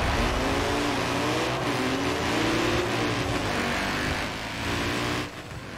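Mercedes and BMW cars race in Forza Horizon 4 with a dense, loud engine roar and layered revving that holds steady and close, then fades near the end.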